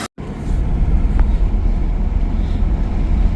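A Jeep Cherokee XJ engine, just back together after a cylinder head replacement, idles steadily up close. A low, even rumble holds throughout after a brief silence at the start, with no talking.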